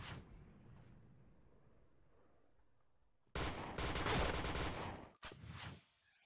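Barrett rifle fire with a fire element in the video game Point Blank, heard after a quiet stretch as a loud, dense burst of gunshots followed by a couple of shorter blasts.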